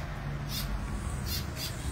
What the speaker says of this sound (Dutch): Heerlijk hier en ik hoor een vogeltje.